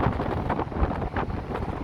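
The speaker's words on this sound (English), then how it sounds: "the wind's going to be bad" Strong wind buffets the microphone on the Blackpool promenade, a close, gusty low rumble with uneven surges throughout, no voices heard.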